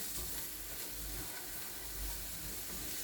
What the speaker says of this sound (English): We are just gently sauteing everything.